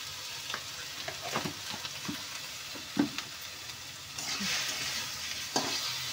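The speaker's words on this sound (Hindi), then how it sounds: "थोड़ा देर ये भुनेगा, उसके बाद मैं साथ में ही इसमें नमक डाल दूंगी।" Momo filling fries in a pan while a spoon stirs it, a steady close sizzle broken by scrapes and knocks of the spoon, and the sizzle grows louder for the last couple of seconds.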